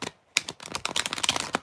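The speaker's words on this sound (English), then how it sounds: "Do 3 shuffles real quick." Tarot cards are shuffled in quick, crisp bursts of papery riffling and slapping, close and fairly loud, several rapid flutters in a row after a short pause.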